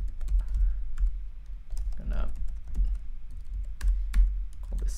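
Typing on a computer keyboard while coding in JavaScript: close, irregular key clicks in short runs with brief pauses, a few sharper taps standing out, and a voice murmuring briefly in the middle.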